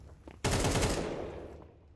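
A sudden burst of AK rifle fire erupts in a Counter-Strike pro league match, loud and dense, then tails off into a ringing decay over the remaining second.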